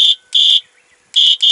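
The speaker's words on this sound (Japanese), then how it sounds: "このホイッスルみたいな音。" A battery-powered device, running on three AA cells, sounds a loud, shrill whistle-like alarm tone in four short bursts with brief gaps between them.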